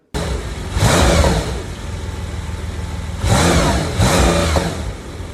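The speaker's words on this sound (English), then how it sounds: "I'll put an exhaust clip here of what it sounds like" A 2026 Porsche 911 Turbo S, 701 hp, exhaust revs hard three times, each burst rising over a steady throaty idle, loud and close.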